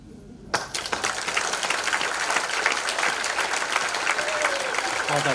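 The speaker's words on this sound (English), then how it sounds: "keep the applause going all the way to the table" Sustained applause from an awards-ceremony audience breaks out after a brief quiet start and holds steady and dense to the end, with a few voices mixed in.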